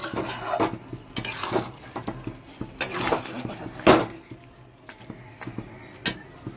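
Food being sautéed in a pan gripped with tongs, with repeated scraping, stirring and clinking of metal against the pan over a soft sizzle, close and busy throughout.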